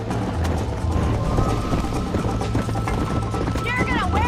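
Horse hooves galloping in the Western video game Red Dead Redemption, a steady rapid clip-clop under continuous game ambience and music, with speech-like voices present throughout.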